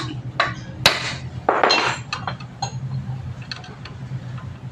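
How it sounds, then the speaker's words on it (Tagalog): Hammer blows strike a stuck motor in a spin dryer, sounding as a handful of sharp, close metallic knocks at irregular intervals over a low background hum. "subukan muna nating martilyuhin kung magigising nga"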